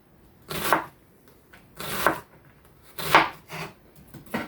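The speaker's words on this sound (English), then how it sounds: "And all we have to do now is very gently cut the onion across." A knife cuts gently across an onion on a board, three distinct soft crunching slices spaced about a second apart, close and clear in a quiet room.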